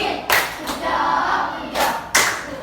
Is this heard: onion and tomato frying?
no